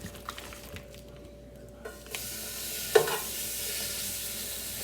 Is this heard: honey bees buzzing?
no